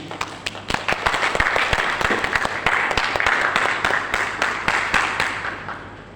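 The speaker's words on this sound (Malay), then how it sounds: "Satu tepukan gemuruh untuk mereka sekali lagi" An audience claps for performers at a Malay Language Month closing ceremony, a dense sustained round of applause lasting several seconds, fairly loud and steady, with crowd murmur mixed in.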